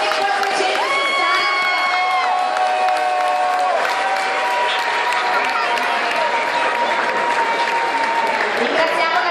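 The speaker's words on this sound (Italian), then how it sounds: "l'applauso si deve sentire anche di là" A large crowd at an outdoor Sardinian-Venetian food and wine evening applauds loudly and steadily throughout, with some cheering and whoops mixed into the dense clapping.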